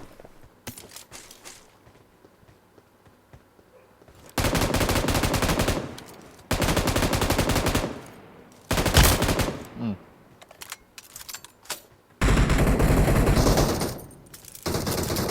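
Bursts of automatic gunfire in PUBG Mobile come in long, loud sustained volleys separated by quieter gaps holding scattered single shots and faint movement.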